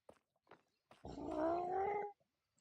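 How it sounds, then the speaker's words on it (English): A single drawn-out, rising meow from a cat, close and clear, lasting about a second, with a few faint small noises before it and no talk. "The way his meow is inquisitive."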